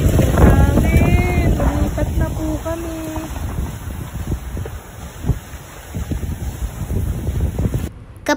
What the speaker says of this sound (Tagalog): Dahil lumalakas na nga ulan at hangin mga beshi.